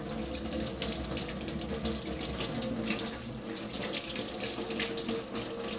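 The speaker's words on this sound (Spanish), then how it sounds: "Antes de cerrar la canilla, dejamos que se escurra un poco el agua." Tap water runs steadily from a sink faucet during handwashing, a continuous close splashing stream with no talk.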